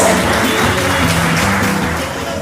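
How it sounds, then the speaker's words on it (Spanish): Applause from diners at a commerce employees' awards dinner in Villa Ángela honoring journalists, a loud dense burst of clapping sustained for a couple of seconds before easing slightly. "Aplausos, periodistas, aplausos."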